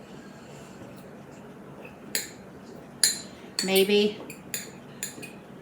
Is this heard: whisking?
yes